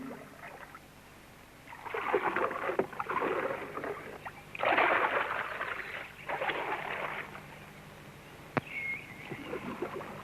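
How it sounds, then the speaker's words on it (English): A wooden canoe is paddled upstream against a river current, with rhythmic bursts of paddle strokes splashing and churning the water close by, separated by quieter gaps and a sharp knock near the end. "Half an hour's paddling against the current."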